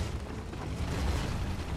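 Artillery shell exploding in the tank battle game World of Tanks, a dense, low booming rumble that fills the short stretch at steady loudness with no clear separate impacts and no talk.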